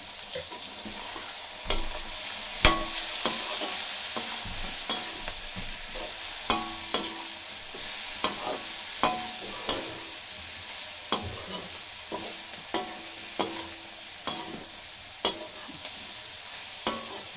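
Masala with turmeric and red chili fries for a mixed vegetable biryani, a soft continuous sizzle broken by regular spoon scrapes and taps against the pan, close and clear.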